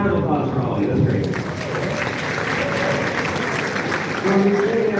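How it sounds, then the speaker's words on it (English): An audience claps for swing dancers in a civic auditorium, steady close applause with voices talking over it throughout. "Round of applause for all of you."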